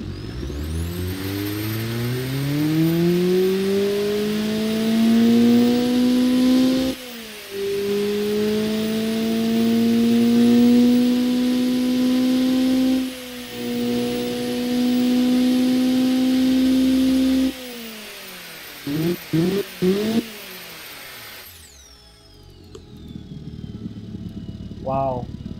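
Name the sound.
Honda D16V1 tuned engine started and revving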